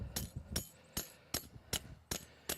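Seven sharp, evenly spaced knocks ring out, a hammer tapping a maple-sugaring spile firmly into a tree at a steady rhythm, fairly quiet and close.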